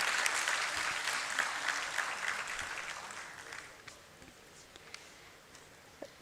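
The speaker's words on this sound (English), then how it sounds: "Huge round of applause, ladies and gentlemen." Loud audience applause at a literacy day ceremony, starting as a full wash of clapping and then thinning to a few scattered claps at the end.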